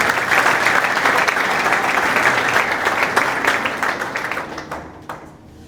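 A church congregation breaks into sustained applause at a prophecy service, steady dense clapping from a large crowd that holds evenly for several seconds, then gradually thins and fades toward the end.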